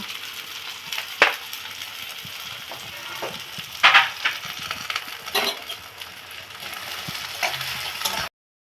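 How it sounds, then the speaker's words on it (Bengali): Onion, ginger and garlic fry in a pan with a soft, steady sizzle, broken by a few sharper clinks and stirring scrapes near the middle, with no voices. "পেঁয়াজটা ছেড়ে দিলাম, সাথে আদা রসুনটাও ছেড়ে এবার লাল করে ভেজে নিব।"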